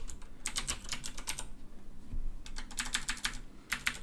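Keys on a computer keyboard clatter in quick, uneven bursts with short pauses between them, close and clear, with no voices.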